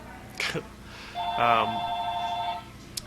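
A telephone rings nearby during a Pokémon card game tournament in Kenosha, a single warbling ring lasting over a second amid room chatter.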